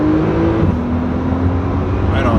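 Porsche 991 Turbo S flat-six accelerating under throttle, a steady droning engine note with a rising tone held close and loud for a couple of seconds, with a voice briefly present over it.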